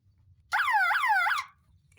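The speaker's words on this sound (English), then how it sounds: "that switch, it'll think the machine's unstable and set the alarm off" The instability alarm on a Nifty Lift 170 trailer-mounted access platform sounds for about a second. It is a loud, warbling electronic tone that swoops up and down three times, then stops, leaving faint background rumble.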